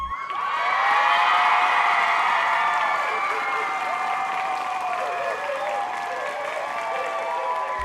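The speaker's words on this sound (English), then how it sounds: "a crowd of students and teachers decked out in pink greeted her with applause and lots of love" A crowd of students and teachers in a school courtyard claps loudly and continuously, with cheering and children's shouts mixed into the sustained applause.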